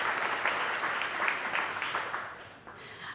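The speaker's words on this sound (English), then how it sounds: "Let's give them all a round of applause," Audience at a chamber of commerce awards gala claps for sponsors, a full round of applause that holds steady then tapers off over a few seconds.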